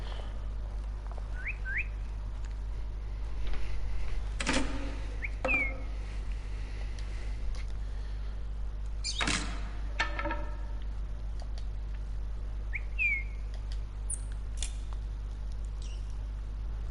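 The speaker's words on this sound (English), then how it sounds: "It's a cardinal." A cardinal calls in short whistled chirps in a Virginia video game, a few brief upward notes repeated over a low steady hum, with several sharp clicks and rustles between them.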